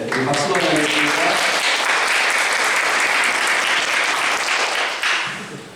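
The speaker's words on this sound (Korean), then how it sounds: "예, 우리 박수로 하겠습니다." A church congregation in Prague claps warmly during a Sunday morning service, giving sustained, full applause that fades near the end. A voice speaks briefly at the start.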